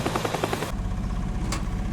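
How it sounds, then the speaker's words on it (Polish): Helicopter in the video game Teardown, a loud close rotor roar with rapid chopping that continues steadily throughout. "Już helikopter leci."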